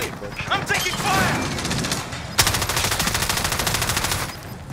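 Rapid automatic gunfire rattles in a shooter video game, with dense bursts of shots over excited player chatter and a sharp loud volley near the middle that continues steadily to the end.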